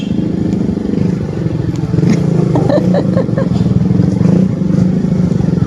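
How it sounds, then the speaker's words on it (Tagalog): A motorcycle engine idles with a rough, steady low rumble, rising slightly partway through, with faint clattering and muffled voices in the background. "Ang pangit ng tunog ng motor."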